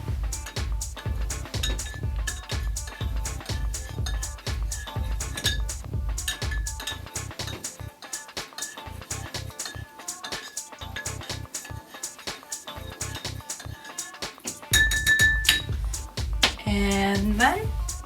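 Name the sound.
mixing homemade alcohol hand sanitizer with lemon juice in glass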